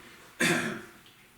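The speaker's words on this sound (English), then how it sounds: "I'm coughing because I'm talking too fast" One short, harsh cough close to the microphone, a sudden burst that fades quickly into quiet room noise.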